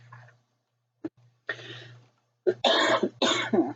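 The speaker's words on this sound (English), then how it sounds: "when I start talking too much I cough" A few harsh coughs, one short and isolated, then a cluster of heavier bursts, close and loud over a low steady hum.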